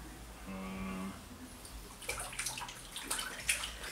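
Tap water rinsing off a ready-to-use cleansing and relaxing face mask, with a faint hum, then irregular splashes and trickles that build toward the end.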